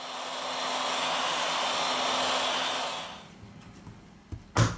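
A heat gun or hair dryer blows a steady, close whooshing rush while heating a Xiaomi Mi 8 phone, then cuts off after about three seconds, followed by a faint handling clunk.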